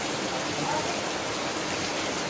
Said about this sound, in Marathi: बघा केवढा पाऊस आहे.